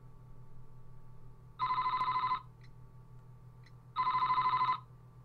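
A telephone rings in the game Famicom Detective Club, two electronic trilling bursts about two seconds apart, clear and prominent over a low steady hum.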